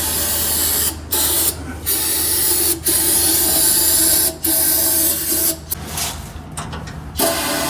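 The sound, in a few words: washing brake fluid through a sandblasted car axle housing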